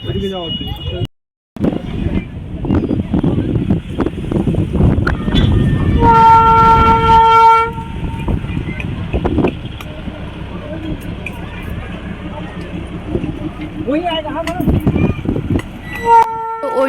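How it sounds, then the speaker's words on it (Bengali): Darjeeling toy train passing, a steady rumble of wheels and carriages with a long horn blast midway and a short toot near the end, close and loud, with people talking over parts of it. "টয় ট্রেনটা তো গেল তারপরে কিন্তু এটা অন্য আর একটা টয় ট্রেন গেল"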